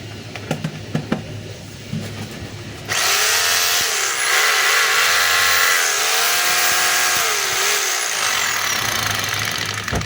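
A DeWalt D25032 rotary hammer drill under test starts after a few light handling clicks, then runs with a loud, steady buzzing whir that wavers slightly in pitch, close to the microphone.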